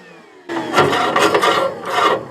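A vacuum hose sucks debris and a stuck piece of wood out of a Traeger pellet grill auger, a close rough rasping rush that starts suddenly and surges in rattling bursts.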